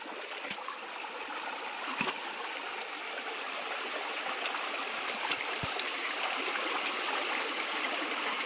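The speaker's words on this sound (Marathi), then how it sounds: "पाण्याचा आवाज" Steady rushing of a clear mountain river at night fills the whole clip, a continuous broadband wash of water with a few small splashes and clicks.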